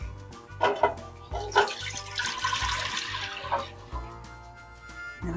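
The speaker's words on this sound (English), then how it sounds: "I'm going to put my juice in here" Cherry juice is poured into a pot for jelly, a short gurgling, splashing stream that swells and then tapers off, fairly close and moderately loud, with no talking.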